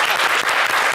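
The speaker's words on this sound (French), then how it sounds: "on va applaudir très fort" A burst of audience applause in a French television game show studio, dense and steady clapping from a crowd, loud and close for under a second.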